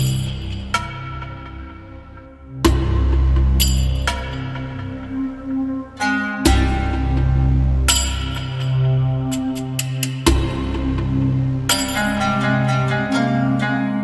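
A chopped Middle Eastern Arabic sample plays as bright plucked and bell-like melodic hits, re-triggered in abrupt chunks over a heavy low bass layer, loud and with no voices.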